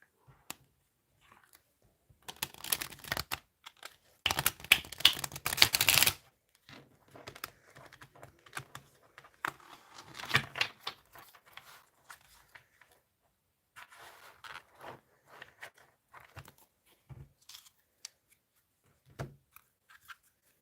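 A deck of tarot cards shuffled by hand, with bursts of riffling, flicking and tapping that come and go. A dense, louder flurry sits near the start, followed by scattered softer card sounds.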